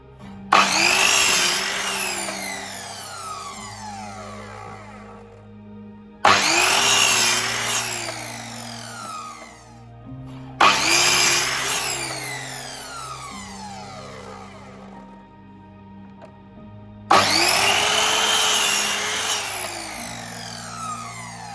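A power saw cuts timber for a workshop worktop in four separate passes. Each begins with a loud whining bite into the wood, then fades and winds down, with short pauses between the cuts.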